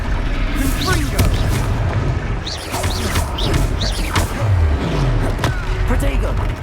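A Confringo fire spell detonates in Hogwarts Legacy, a loud booming blast amid a dense battle din of crashes and impacts, with voices shouting during the combat.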